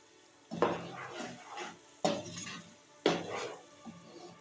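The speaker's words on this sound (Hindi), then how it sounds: "थोड़ा सा गरम मसाले को सबको एक साथ सौते करेंगे।" Garam masala and spices sauté in a pan over medium-low heat, with three distinct scrapes and stirs of a spoon against the pan over a soft, quiet sizzle.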